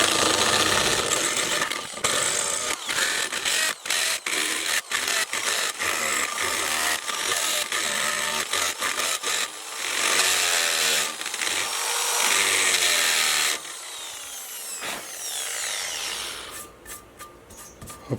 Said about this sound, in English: I got my drill ready. And now I try to open them a bit more